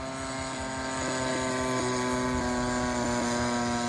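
The small buzzing 30cc gas engine of a Great Planes Giant Avistar RC airplane drones steadily overhead, its high whine growing slightly louder.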